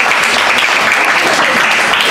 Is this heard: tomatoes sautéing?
no